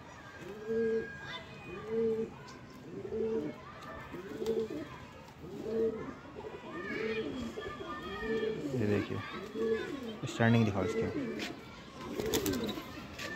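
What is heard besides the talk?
pigeons cooing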